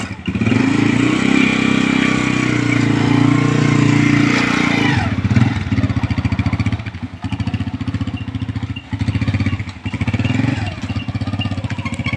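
A Honda motorcycle starts up and settles into a steady, loud, chugging idle with a rapid mechanical pulse, heard close up in an outdoor setting.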